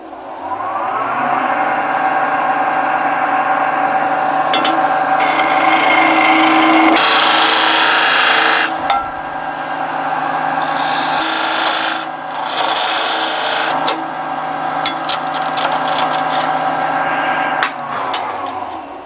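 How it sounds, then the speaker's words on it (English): A skew chisel makes finishing cuts on a wood blank spinning on a lathe while turning a knockout bar. It produces a loud, steady scraping hiss with a ringing undertone that shifts in texture through the passes, with no talking. "I'm just going to switch over to a skew chisel to make the final outside cuts here."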